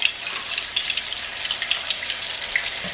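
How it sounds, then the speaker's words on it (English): Plain, unbreaded chicken pieces fry in a pan with a steady, moderately quiet sizzle, crackling and spitting in small pops throughout. "Again, I am frying my chicken naked."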